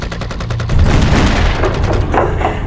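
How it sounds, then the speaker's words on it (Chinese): Sustained gunfire from a Chinese kung fu anti-Japanese war film, a dense continuous barrage of shots and booms that stays loud throughout with no talk over it. "这不一直有枪声吗"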